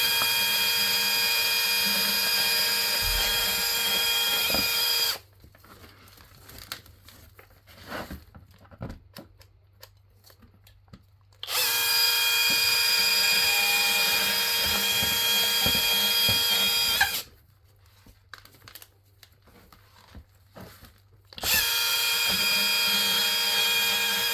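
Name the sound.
small chainsaw cutting tree branch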